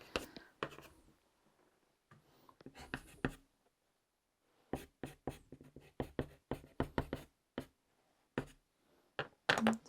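A pastel pencil scratches across paper in short, close, rhythmic strokes, with quiet whispered speech in between.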